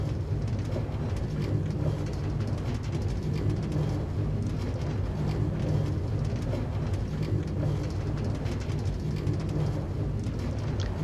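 Chest minecarts in Minecraft roll along a railway with a continuous, steady low rumble and clatter, loud and unbroken throughout with no talking.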